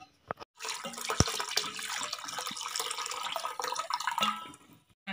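Second coconut milk poured through a strainer into a rice-flour mixture for coconut milk halwa: a continuous, moderately soft liquid splash and trickle lasting a few seconds, with a brief clink before it starts.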